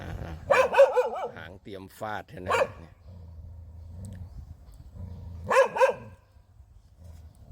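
A dog barks in two short bursts, a double bark near the start and another later, loud and close, while someone talks in between.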